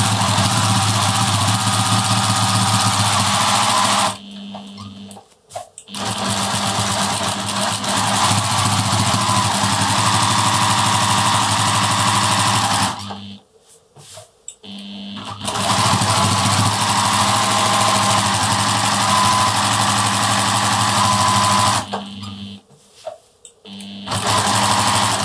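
A sewing machine stitches a row across a quilt with a steady mechanical whir, stopping briefly twice as the fabric is repositioned and then running again, with no talking.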